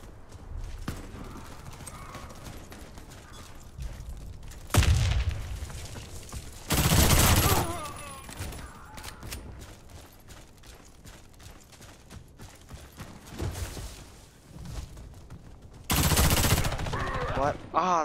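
Video game gunfire in short bursts, with loud broadband volleys around 5, 7 and 16 seconds over a busy game mix and background chatter.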